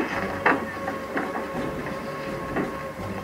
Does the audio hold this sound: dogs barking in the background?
no